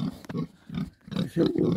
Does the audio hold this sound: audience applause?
no